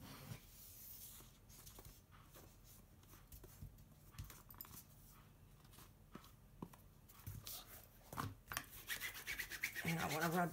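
Paper of a handmade mini album rubbed to burnish it down, a faint scraping and rasping of repeated short strokes that grows louder toward the end, close up in a quiet room.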